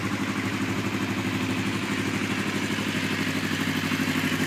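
The engine of a stock, low-mileage 2009 Kawasaki Vulcan 500 motorcycle idling steadily, with an even, pulsing low thrum and light mechanical clatter heard up close, no talk.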